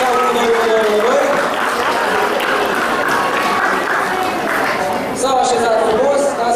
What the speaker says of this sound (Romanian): le aplaudăm ca să vină mai repede